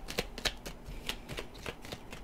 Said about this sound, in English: I really don't like shuffling in front of the microphone because it really picks it up.